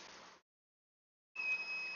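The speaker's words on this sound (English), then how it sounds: "Nope, we got an alarm." An alarm gives a steady electronic beep, fairly close and moderately loud, sounding briefly, cutting out for about a second, then returning, with no voices over it.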